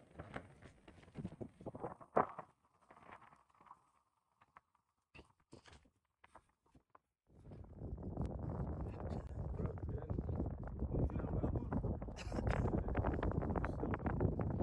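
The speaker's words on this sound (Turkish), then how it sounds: "Burada bir hayli rüzgar var." Wind buffets the microphone on a summit in Turkmenistan, starting as scattered gusty knocks and then turning into a loud, continuous roar in the second half, with some voices faintly present.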